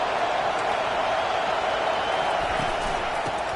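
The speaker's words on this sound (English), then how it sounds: "This crowd knows when to bring it." A large football stadium crowd at a Penn State versus Nebraska game roars in a steady, dense wall of cheering that holds throughout with no break.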